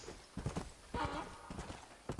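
Donkey hooves clopping in the Western video game Red Dead Redemption, a few faint, soft hoof steps at an uneven trot, heard alone with no talk over them.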